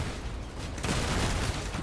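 Gunfire rattles in the vehicle combat game Crossout, a fairly faint, continuous burst of distant shots with no voice over it.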